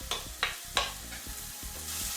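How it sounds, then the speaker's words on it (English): Onion frying in hot olive oil, sizzling steadily with a few sharp stirring clinks and scrapes spaced through, close and fairly loud with no talk. "we drop a piece of onion inside. See how it's going? It's starting to sizzle."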